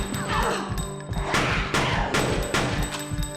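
Rapid gunfire in the PS1 video game Fear Effect, a string of sharp, loud shots cracking in quick succession with echoing bursts and heavy impacts.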